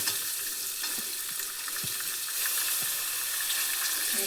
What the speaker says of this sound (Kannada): ಇದಕ್ಕೆ ಶುಂಠಿ ಬೆಳ್ಳುಳ್ಳಿ ಪೇಸ್ಟ್ ಹಾಕ್ತಿದ್ದೀನಿ, ಹಾಗೆ ಈರುಳ್ಳಿ ಹಾಕ್ತಿದ್ದೀನಿ